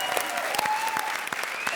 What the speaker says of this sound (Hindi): बजा ताली